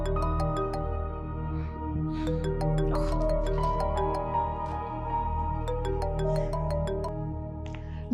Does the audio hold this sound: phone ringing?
yes